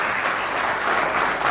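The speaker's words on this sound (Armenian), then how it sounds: "Հարգելի հանդիսատես ուզում են միակ բարձր ծափարեններ պարոն Շահինյանի" An audience applauds steadily and warmly for a boxing coach at an award ceremony, a dense continuous clapping from a crowd indoors.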